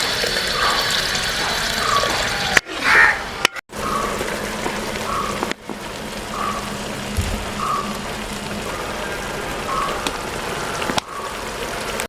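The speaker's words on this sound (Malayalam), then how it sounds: "അല്പം വെള്ളം ചേർത്ത് കൊടുക്കാം." Water poured into a chicken kondattam sauce mixture in a pan, a soft trickling splash heard alone, broken by brief clatters and sharp cuts.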